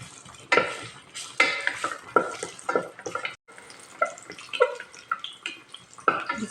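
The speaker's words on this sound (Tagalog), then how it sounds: "Gigisa ko muna yung aking luya" Ginger being sautéed in a pan: repeated scraping stirs and clinks of a spatula against the metal, in uneven bursts over a faint hiss, close and moderately loud with no voices.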